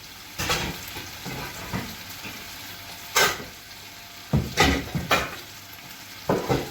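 Mushrooms fry in a pan, a steady low sizzle broken by several sharp scraping bursts as they are stirred, close by and with no talking.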